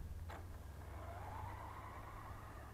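A ZD Racing Thunder RC truck on LiPo power whirs with a steady electric motor drone, close and continuous, with a brief sharp squeal near the start.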